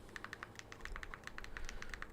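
Rapid keystrokes on a keyboard remote used with an Amazon Fire TV, a steady run of light clicks and taps heard close up with no voices.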